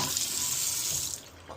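Water running from a newly installed single-handle faucet in a sink, a steady close rushing stream that eases off near the end.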